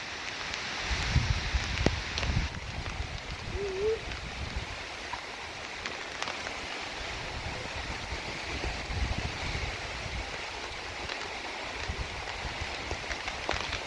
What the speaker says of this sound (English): Rain start to come down really heavy, you know.